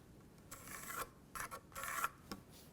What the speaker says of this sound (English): Now I'm just going to draw a line through those two marks,